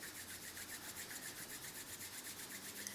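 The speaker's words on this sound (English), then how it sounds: "So I want you to rub your hands" Palms rubbing briskly back and forth, a steady close-up swishing friction that repeats in quick even strokes with no talking.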